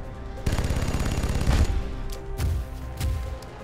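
Automatic gunfire in the XCOM: Enemy Within video game, a rapid burst of shots followed by a few heavier single bangs, loud and close.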